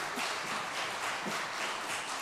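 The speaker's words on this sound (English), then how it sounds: "We can all applaud." Applause from a church congregation during a Sunday service, a steady, fairly quiet wash of many hands clapping at once with no voices over it.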